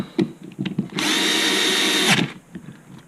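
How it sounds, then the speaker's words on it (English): A power drill tightens screws while rebuilding a Losi 5ive B / 5ive T RC car differential, one steady whirring run of about a second amid faint clicks and handling noises, with no voices. "So now you can go back and tighten the rest of them all the way down."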